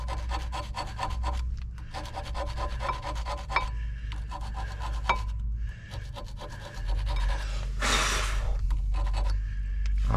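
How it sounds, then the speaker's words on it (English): Scraping and rasping on brake parts of a Dodge Caravan during a front brake job, a steady run of close, gritty strokes with a brief louder burst near the end. "all I'm going to do is just scrape it off a bit"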